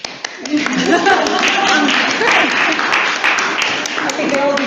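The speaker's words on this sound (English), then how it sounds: "I think they all deserve an applause." Close, lively applause from participants at the end of an online discussion on refugee cities, dense clapping with voices talking over it throughout.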